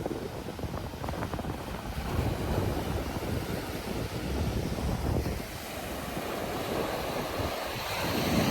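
Sea waves rolling up and washing over the beach, a continuous rushing surge mixed with wind buffeting the microphone, rising and falling in strength with no voices.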